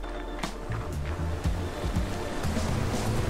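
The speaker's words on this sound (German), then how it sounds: "Und der Wasserfall ist ganz schön laut." A loud waterfall roars steadily in The Witness, a broad continuous rush of water with low rumbling, heard alone throughout.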